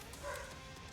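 A dog gives a single brief, faint bark somewhere in the background of a quiet indoor space.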